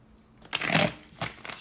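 Riffle of a Radiant Rider-Waite tarot deck being shuffled by hand, a soft rustle swelling into a dense flurry of card flicks, then two brief slaps as the stack settles, close and fairly quiet with no talking.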